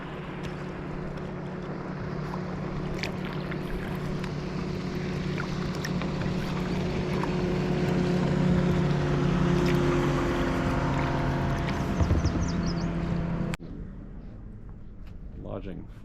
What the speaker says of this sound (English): There's a boat coming for us.